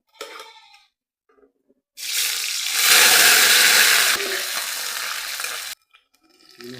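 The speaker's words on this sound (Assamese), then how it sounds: "প্ৰথমে আলুখিনি ভাজি ল'ম" Potatoes frying in oil in a home kitchen, a loud, close sizzle that bursts in suddenly and holds steady for about four seconds before stopping, with faint kitchen clatter before and after.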